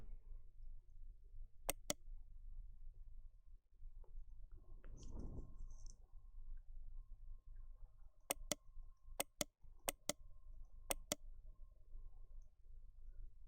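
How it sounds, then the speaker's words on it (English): A computer mouse right-clicking, heard as sharp close clicks in quick pairs, spaced out with near silence between, then clustered more densely toward the end. "right click on it"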